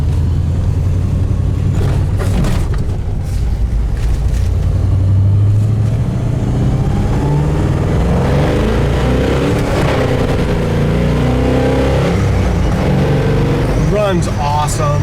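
A 1968 Chevelle's engine idles steadily and then revs up with rising pitch, loud and close, while someone talks over it throughout.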